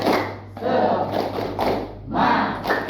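A school class does the tepuk semangat chant, with bursts of group voices and hand claps coming in rhythmic waves, loud and close.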